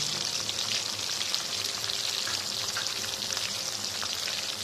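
Ground cumin and coriander, with chili powder, fry in hot oil in a pan for a Bengali mixed-vegetable dish, giving a steady, dense, close sizzle that holds evenly the whole time without any talk.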